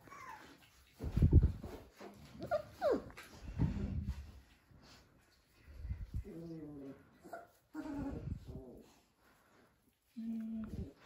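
Four-week-old Dalmatian puppies whimper and yip in short high bursts with pauses between them, close and fairly quiet, with no voices.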